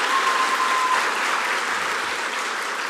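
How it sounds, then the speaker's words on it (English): Warm, even applause from an audience at a communications studies speech competition follows a performance, a continuous wash of many hands clapping at steady loudness throughout. "Can we give them another round of applause?"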